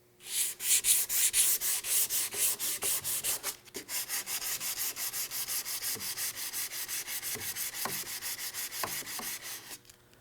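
Steady, rhythmic back-and-forth sanding of wood furniture with 180 grit, close and fairly loud, with brief pauses near the start and end of the strokes.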